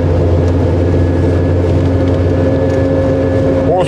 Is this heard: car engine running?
yes